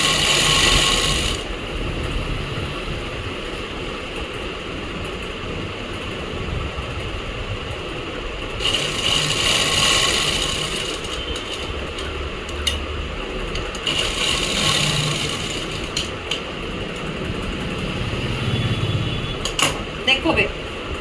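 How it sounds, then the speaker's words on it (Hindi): A sewing machine stitches an Afghani pant, its close mechanical whir and clatter running steadily throughout, while someone talks over it. "मशीन का एक पैर अंदर करके और सिलाई लगा देंगे"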